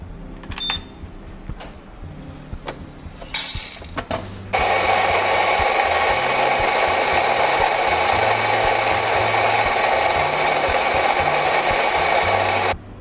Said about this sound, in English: 16 grams, which is about 2 scoops of coffee